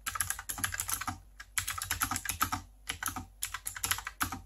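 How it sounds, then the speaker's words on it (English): Steady, fast typing on a WOTIMILON WM87 mechanical typewriter-style keyboard, with crisp close clicks in quick runs broken by short pauses, loud and alone. "this clicking noise, so you know exactly when you have been hitting a key"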